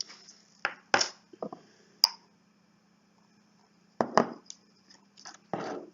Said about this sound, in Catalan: Que vull que soni una mica més apagat, doncs hi afegeixo sal